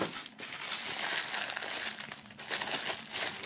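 Plastic film wrapping around a belt crinkles continuously as the belt is unpacked, a close, dense rustle that swells and eases for a few seconds.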